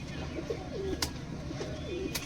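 Giribaz pigeons coo in a couple of soft, rolling phrases at close range, with a faint sharp click between them, in a pigeon loft in Katwa, Burdwan district.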